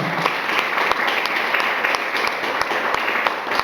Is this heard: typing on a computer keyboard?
no